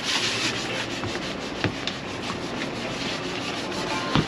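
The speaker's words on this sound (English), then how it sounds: "gotta block everything with a sander again. So we're sanding again." Hand sanding on the hull of a 25ft Parker SE boat under rebuild: a steady, close, continuous abrasive rubbing with no talk and occasional small knocks.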